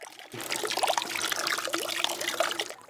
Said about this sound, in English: So here we have a classic two-tiered fountain on a pedestal. Makes a relatively nice sound, a more gentle sound.